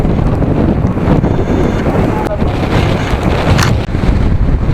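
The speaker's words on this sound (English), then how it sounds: "You just can't feel the strength of the wind." Strong wind blowing at a scenic waterside tourist spot near Bilaspur, a loud continuous roar of buffeting against the microphone with waves washing in underneath, with no voices.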